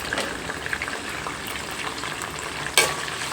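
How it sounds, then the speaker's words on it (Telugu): Ajwain and cumin seeds sizzling in hot oil as a tempering, a steady close crackle and hiss with a brief sharper spatter near the end. "వాము జీలకర్ర మనం పెట్టుకున్నాం కదండి ఆయిల్లో. ఇప్పుడు తాలింపు వేగాక"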